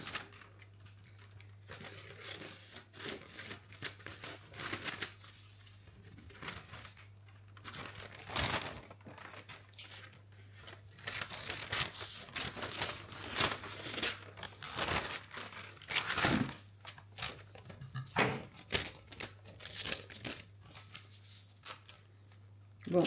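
Close, quiet rustling, crinkling and snipping as a strip of paper is cut for scrapbooking. The irregular bursts come over a faint low hum.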